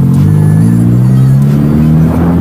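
A Honda Click scooter engine with a modified CVT set revs steadily at close range, a continuous droning whine that rises slightly in pitch.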